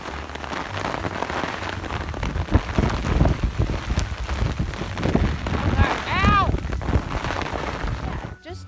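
Rain from a mountain thunderstorm pattering steadily on a surface outdoors, with wind noise buffeting the microphone, low rumbles and a brief chirping call partway through.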